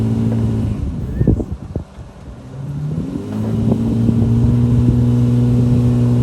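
Drag car engine revving hard while the wheels spin against a brake line lock, a loud sustained roar with rising pitch, briefly dipping before climbing back to a steady high drone.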